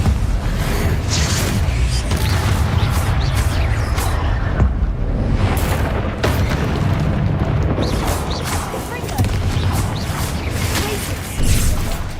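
A Confringo blasting spell explosion in Hogwarts Legacy rumbles as a dense, loud, continuous boom and crash with heavy low-end roar throughout.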